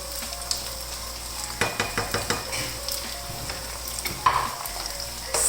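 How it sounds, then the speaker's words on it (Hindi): Minced mutton keema fries in a pan with a steady sizzle, broken by a run of sharp scraping stirs and a few clinks of the utensil against the metal. "कीमे को भूनते हुए मुझे तकरीबन 4 से 5 मिनट हो गए हैं"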